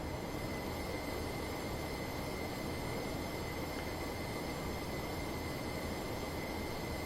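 A tram in a train simulator game runs along a street in Huddersfield, giving a steady rumble of rail noise with a sustained high tonal whine, continuous and close with no talk.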